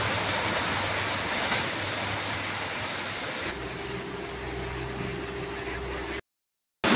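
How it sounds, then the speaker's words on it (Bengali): Steady, dense roar of heavy rain pouring down continuously in Kolkata, loud and close, cutting out abruptly near the end. "খুব জোরে জোরে বৃষ্টি হচ্ছে।"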